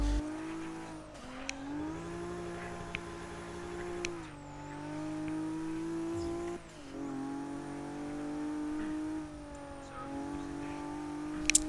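Lexus SC300 drift car in Forza Motorsport 6, its engine revving and droning steadily with rising and falling pitch as tires squeal through long slides, no talking over it.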